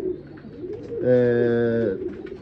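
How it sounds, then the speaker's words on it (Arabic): A domestic flying pigeon gives a single close, resonant coo lasting about a second, with faint bird murmurs around it. "لا طيور مال مطيار هيك مثل ما يقولون نسميها"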